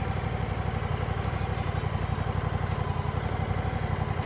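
A Honda CMX1100 engine in automatic mode pulling away gently, a steady close throbbing putter with an even mechanical pulse throughout.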